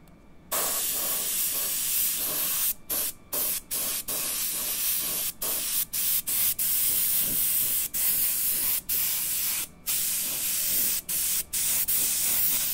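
An airbrush mists paint onto cornhole bags to build up soft clouds, giving a close, continuous airy hiss broken by frequent brief pauses as the trigger is released and pressed again.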